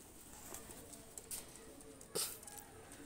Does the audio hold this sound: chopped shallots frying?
no